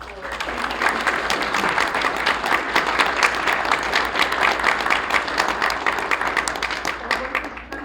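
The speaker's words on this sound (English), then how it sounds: "Just a round of applause for." Membership meeting audience giving a loud, sustained round of applause, dense clapping throughout with some crowd voices mixed in.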